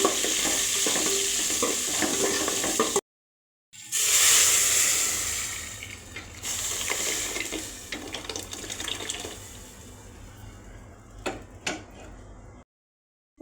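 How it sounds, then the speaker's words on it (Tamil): Onion and tomato sauté in a pan for spinach kootu, giving a steady hiss and sizzle with stirring scrapes throughout and a couple of brief silent breaks. "அதை போட்டு நல்லா வதக்கிக்கோங்க"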